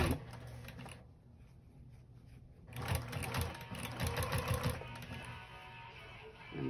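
A sewing machine stitches the back seam of a denim quilt-as-you-go blanket in close, rapid bursts, pausing briefly before resuming a longer run of steady mechanical clatter.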